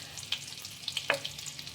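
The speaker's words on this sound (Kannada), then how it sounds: "ಸ್ವಲ್ಪ ಫ್ರೈ ಮಾಡ್ಕೊಳ್ಳಿ." Cardamom, pepper and cloves fry in oil and butter in a kadai, a soft continuous sizzle with a couple of light crackles and a brief stir tap.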